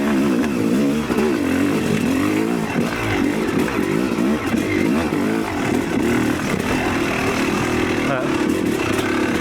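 A Yamaha YZ300 electric-start dirt bike engine revving as the throttle is opened, a loud, continuous buzzing roar that rises and wavers close by.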